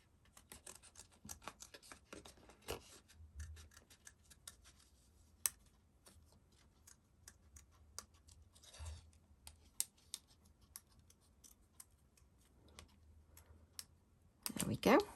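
Scissors snipping a gel-press-printed card piece for a handmade card, heard as quiet, scattered close snips and clicks in a hushed room, ending with a louder rustle of paper.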